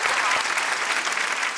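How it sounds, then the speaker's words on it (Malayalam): A studio audience at a televised comedy show claps in a steady, dense burst of applause, with no voices over it. "കൈയടിച്ചു കൊടുക്കൂ."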